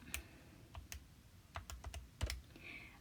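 Keys tapped on a handheld calculator keypad: a quiet series of sharp, separate clicks in an irregular rhythm, about a dozen presses over a few seconds with no voices.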